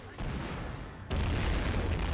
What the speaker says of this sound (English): I think the tank just blew up.